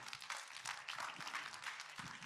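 A conference audience at a peace gathering applauds a speaker in a dense, even wash of clapping that carries on steadily, fairly soft and distant, with no talking over it.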